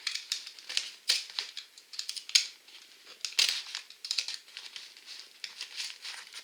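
Large paper envelope being opened, with soft crinkling, rustling and tearing paper in quick irregular bursts, close and fairly quiet, with no voices.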